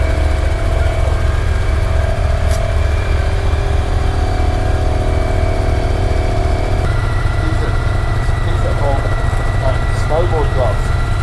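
A motorcycle engine idles fast and high in a loud, unbroken drone that stays steady throughout, close by, with faint voices underneath.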